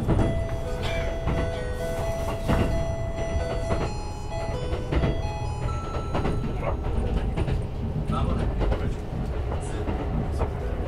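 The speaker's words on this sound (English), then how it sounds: "every train also has this chime." A melodic chime rings aboard a Japanese train, clear tones sounding over the rumble and clatter of the moving carriage, with faint voices in the background.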